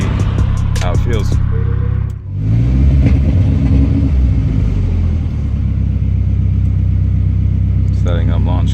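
Turbocharged BMW E30 with an M42 engine running on a dyno, a loud sustained rumbling roar with a brief dip partway through, then rising steadily under load, with faint voices near the start and end.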